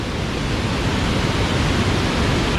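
Tad Sae waterfall near Luang Prabang in Laos pours in a dense, steady roar of rushing water, close and continuous with no breaks and no voices.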